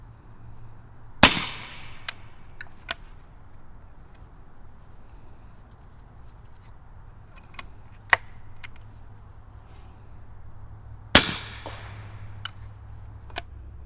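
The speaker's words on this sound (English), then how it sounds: "Now we got the BAM PCC on my handy rifle, shooting SIG 300 blackout, 220 grain subs." Two suppressed rifle shots from a BAM PCC upper on a Handi rifle firing SIG 300 Blackout 220-grain subsonic ammunition, sharp muffled cracks about ten seconds apart, with faint clicks and small knocks between them over a steady low hum.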